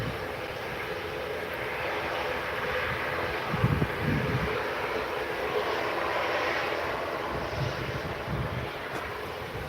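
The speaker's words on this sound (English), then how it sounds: "So next to depart is Ryanair off to Alicante" A Ryanair airliner departs runway 23L at Manchester Airport, a steady distant engine roar rumbling and swelling slightly through the middle, mixed with wind buffeting on the microphone.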